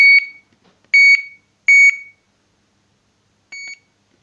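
A fishing bite alarm beeps in short electronic bursts: two quick ones, a third, then one more after a pause, sharp and clear against silence.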